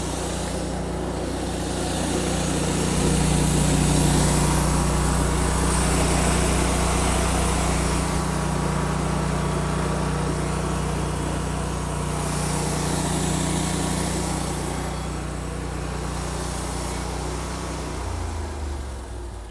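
Hud-son H360 portable sawmill running as it cuts a 2-inch piece of timber, a steady loud engine drone with a low hum that holds throughout and winds down near the end.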